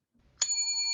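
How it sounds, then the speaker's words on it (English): An alarm bell marking the end of a session gives a single bright ring that strikes sharply and then holds a steady ringing tone, with no talk. "that's my alarm to tell me our session has ended."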